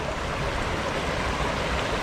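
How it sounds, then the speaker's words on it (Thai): Clear mountain stream beside a coffee shop in Ban Pa Miang village, Lampang, giving a steady close rushing and babbling of water with no voices. "ข้างๆก็จะมีลำธารแบบนี้เลย น้ำแบบวุ้ยใสมากเลย"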